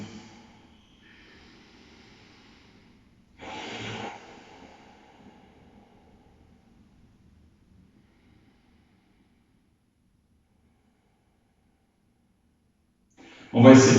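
Deep breaths drawn during a yoga session, seated in Vajrasana with the shoulders relaxed: a soft breathy exhale fills about half a second early on, and a louder, closer breath ends the clip after a long quiet stretch.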